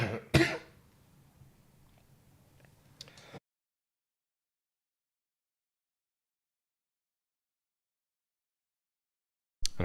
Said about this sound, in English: I have a little coughing fit as soon as I go live